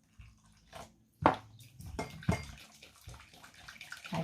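Water poured into zalabia batter in a mixing bowl, a close, soft splashing and sloshing with wet squishy mixing sounds in short irregular bursts.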